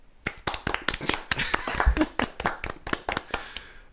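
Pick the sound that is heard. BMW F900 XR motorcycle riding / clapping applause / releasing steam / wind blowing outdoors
clapping applause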